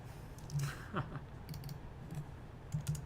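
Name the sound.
typing a value on a computer keyboard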